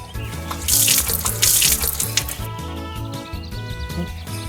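Running water pours and splashes steadily, like a tap filling a container, with soft music playing underneath, as seedlings are watered in a farming video game.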